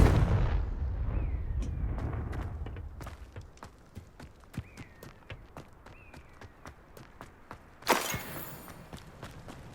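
A Confringo fire-blast spell goes off in Hogwarts Legacy: one sharp, loud burst arrives after a long run of quick, even footsteps crossing the ground.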